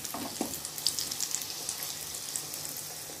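Green pea kachori frying in hot oil makes a soft, continuous bubbling sizzle with light crackles and pops, quiet and steady with no talking.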